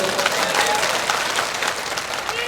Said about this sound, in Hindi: आप लोग ताली बजा रहे हैं इस बात पर